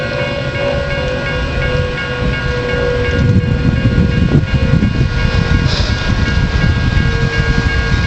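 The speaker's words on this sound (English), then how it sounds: "It's another Metra." A Metra commuter train passes at a Chicago-area station, a loud rumbling roll of wheels on rail that builds and holds with steady mechanical drone and faint whine.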